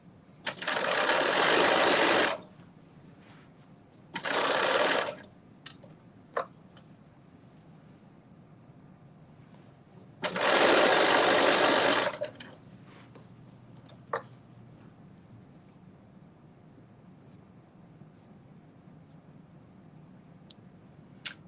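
A sewing machine stitches a knit dress from McCall's pattern 8383 in three loud, close bursts of running, with quiet gaps and a few faint ticks between them.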